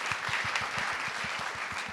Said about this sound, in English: Round of applause for my fabulous panel here.